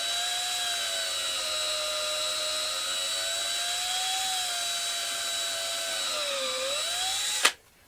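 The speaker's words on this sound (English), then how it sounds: "I have to follow the same inclination as my main drill bit" A Kreg pocket hole jig (KPHJ320-INT) guides a drill bit boring a pocket hole, giving a steady high whine that dips briefly in pitch near the end, then cuts off abruptly.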